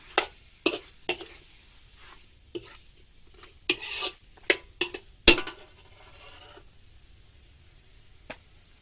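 Chicken and kale being stir-fried in a pan with oyster sauce, heard as a series of sharp scraping, rasping strokes of a spatula against the pan at an irregular rhythm, close and fairly loud, with quieter gaps between them.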